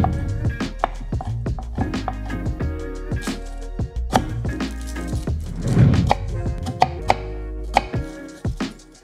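A knife chopping capers and shallot on a cutting board, with quick irregular bursts of close, crisp taps and some louder thuds.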